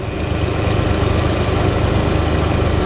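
A four-stroke engine idles steadily at close range while its carburettors are being synchronised, a continuous low throbbing drone with a slightly high, even idle and no voices.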